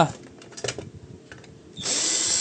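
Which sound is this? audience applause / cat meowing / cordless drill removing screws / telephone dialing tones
cordless drill removing screws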